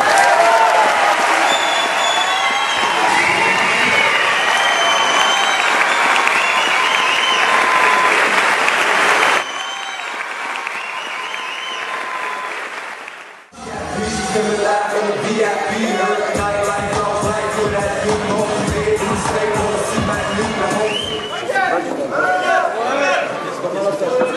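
Loud crowd applause and cheering fill an MMA event hall, a dense sustained roar that dips briefly before surging back with clapping and shouts, and voices mixing in throughout.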